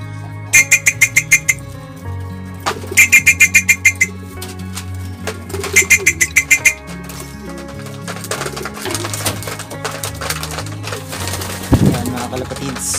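Racing pigeons being fed a mix of pellets, corn and brown rice, with soft cooing amid a dense clatter of feed and rhythmic tapping, close and fairly loud throughout.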